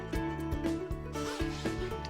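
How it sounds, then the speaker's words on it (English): A zipper on fitted RV bedding is drawn closed in a run of short, close zipping strokes, quiet and rhythmic with no talking. "I zip it back together."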